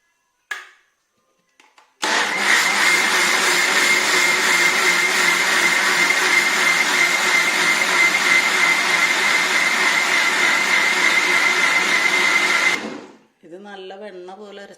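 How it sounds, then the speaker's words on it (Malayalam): A mixer grinder whirs loudly and steadily for about ten seconds while grinding appam batter, then winds down; a few faint clicks come before it starts, and a voice speaks briefly after it stops. "അടച്ചിട്ട് നമുക്ക് അരച്ചെടുക്കാം"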